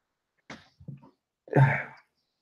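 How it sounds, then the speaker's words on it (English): A person builds up with a couple of short gasping breaths, then lets out one loud, close sneeze. "I feel a sneeze coming on"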